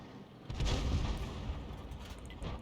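An FV304 self-propelled artillery gun in a tank video game fires once with a heavy boom, followed by a rumbling low-frequency tail and faint mechanical clatter.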